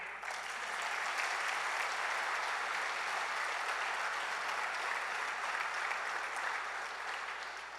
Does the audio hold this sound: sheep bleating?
no